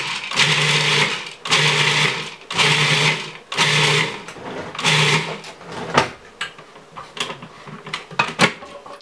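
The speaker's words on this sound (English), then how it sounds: "we're going to pulse this up in a food processor" A food processor pulses garlic mustard pesto with pine nuts and garlic in five loud, even bursts of whirring blade noise, followed by lighter clattering taps and knocks.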